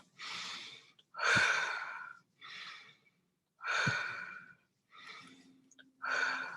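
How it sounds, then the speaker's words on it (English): Deep breathing as a vocal warm-up: several slow, loud breaths drawn in through the nose and pushed out through the mouth, each a separate airy gust with short pauses between, close and clear with no speech. "So start off with some deep breathing. That's in through the nose, out through the mouth."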